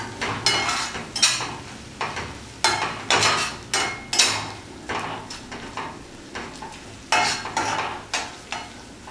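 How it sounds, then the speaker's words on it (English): A spoon stirring ginger garlic paste with onions in a pan, giving repeated scraping strokes in an uneven rhythm, close and moderately loud over a faint sizzle. "Give this a good mix"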